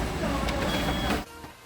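A printer in a Staples store runs off documents with a steady mechanical whir for about a second before cutting out, leaving a quieter room tone.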